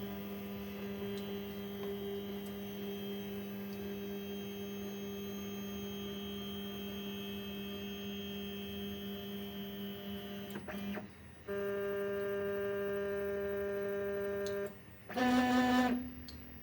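A 3D printer hums steadily with a constant motor whine as its print bed rises into position, the tone shifting pitch near the end with a brief louder stepper-motor burst, no talking.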